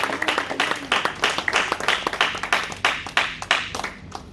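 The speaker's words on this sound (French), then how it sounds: "acclame plus fort Jésus" A church congregation claps for Jesus during worship, a dense, steady patter of many hands that rises and falls in waves, close and moderately loud with no talking over it.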